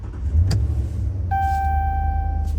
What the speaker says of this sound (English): press the brake and start the vehicle